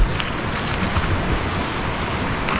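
Waves breaking along the seaside of a Croatian island in winter, a steady broadband wash of surf with wind noise, continuous and fairly loud, no one speaking.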